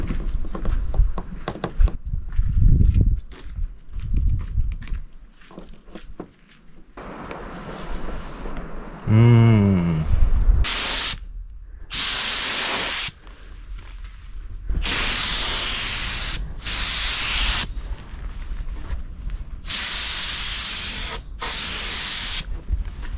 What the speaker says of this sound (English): I just sprayed the intercoat on there to seal my tape down